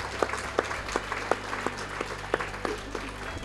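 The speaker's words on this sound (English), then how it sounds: "I would love to hear a round of applause" Audience applause at a bookshop author event, a steady wash of many hands clapping with a few sharper individual claps standing out over a low background hum.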